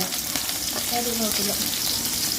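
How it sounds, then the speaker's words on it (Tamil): Onions sizzle steadily in hot oil as the base for chicken curry, a close, continuous frying hiss with faint stirring and a brief voice in the background. "சிக்கன் கறிக்கு வதக்குறதுக்கு என்ன எண்ணெய் விட்டாச்சு வெங்காயம் போட்டாச்சு"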